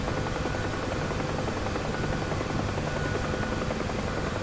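A helicopter in the flight simulator DCS World gives off a steady, loud rotor drone with a continuous chopping throb, close and unbroken, with no talking heard.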